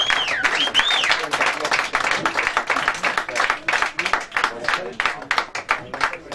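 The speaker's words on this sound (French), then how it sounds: "Applaudissez-le encore une dernière fois." Audience applause at the close of the 100th episode of a radio show, dense clapping and crowd noise filling the room throughout, with a whistle near the start and voices mixed in.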